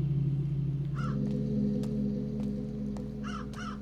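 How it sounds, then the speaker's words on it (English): Crows caw in the video game Dreams, during The Conjuring, with two clear calls heard over a low ambient hum and a few sharp clicks. "I think a crow just hit one of the house windows."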